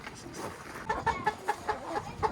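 Hens cluck softly inside a coop, a series of short rhythmic clucks rising in the second half over a quiet background.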